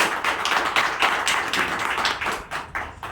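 Audience clapping at a Varanasi property event, a dense run of overlapping handclaps at moderate loudness with no talking, easing slightly toward the end.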